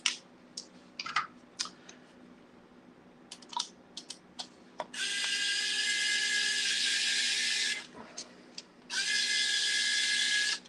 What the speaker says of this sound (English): we are going from the bottom side to insert these screws through here, here, here, and here